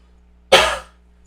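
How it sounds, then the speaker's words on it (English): A single sharp, loud cough bursting out close to the microphone, then trailing off into silence. "still dying from this cough"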